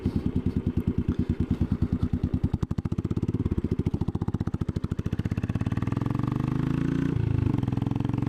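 A Royal Enfield Classic 500 single-cylinder motorcycle thumps loudly and close by, with a rapid, even pulse that quickens and smooths into a steady drone as the bike pulls away and rides on.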